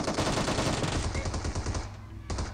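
A DP machine gun in PUBG Mobile rattles out a dense, loud burst of rapid automatic fire that keeps going almost without pause for the whole stretch.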